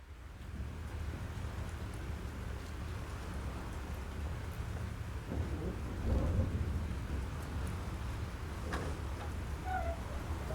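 Thunderstorm in the video game Life is Strange: steady heavy rain hiss throughout with a deep rolling thunder swell near the middle, loud and continuous, no voices.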